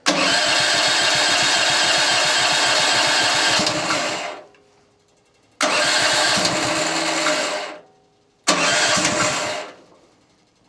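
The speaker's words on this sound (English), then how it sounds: "I'm gonna go ahead and start the sawmill because it's been a while." A sawmill's gasoline engine is started three times. Each time it roars loudly for a few seconds, then dies away into near silence before the next start.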